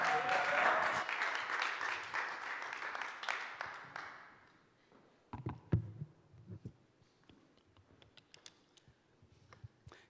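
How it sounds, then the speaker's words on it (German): An audience at a talk-style church service gives a round of applause that swells briefly, then fades out after about four seconds, leaving scattered knocks and handling noises. "Und jetzt bitte ich euch, dass ihr einen großen Applaus gebt"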